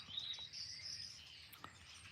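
Small birds chirp outdoors in quick, high, faint trills, with a few thin calls repeating over a soft background hiss and no voices.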